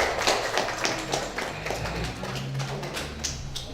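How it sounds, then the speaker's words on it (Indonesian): An audience applauding in a hall, a dense, steady patter of many hands clapping for several seconds with a low hum underneath. "Berikan tepuk tangan buat Mas Sarah sama Bunda"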